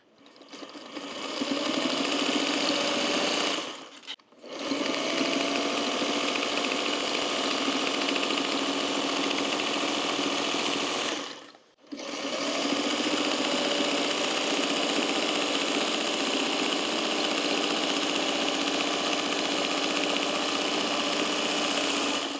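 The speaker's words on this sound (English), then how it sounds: "I'm going to stitch right on all those lines that I drew" A sewing machine quilts a potholder along drawn lines, a loud close steady motor whir with rapid needle chatter that runs in long stretches, pausing briefly twice before resuming.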